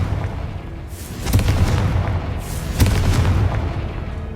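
The Confringo fire spell from Hogwarts Legacy goes off in two heavy booming blasts about a second and a half apart, each with a rumbling tail, loud and close.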